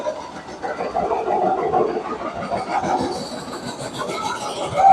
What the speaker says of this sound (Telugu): ట్రైన్స్ అయితే వెళ్తున్నాయండి, వెళ్తున్నాయి అనమాట ట్రైన్స్ అయితే.